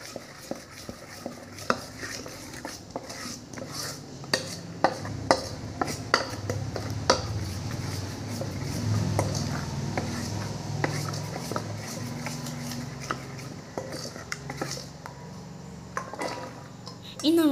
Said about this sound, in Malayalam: ഈ രീതിയിൽ മിക്സ് ചെയ്തെടുക്കാം.